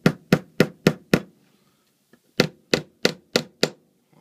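A hammer drives a small nail into wood while a homemade bird feeder is built: five sharp, evenly spaced strikes, a brief pause, then five more, loud and close with no talking.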